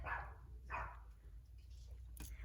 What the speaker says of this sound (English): the dog is barking at the UPS guy